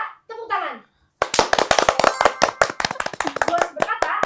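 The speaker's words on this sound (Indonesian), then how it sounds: "Bos berkata, tepuk tangan." A brief voice, then a group of children clapping hands during a Simon Says game: a burst of sharp, loud, irregular claps close by, with a voice calling out over the end.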